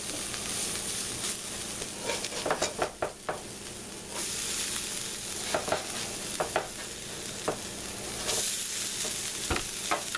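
Hash browns fry in butter in a pan with a steady close sizzle, and a utensil scrapes and clatters as they are stirred and flipped.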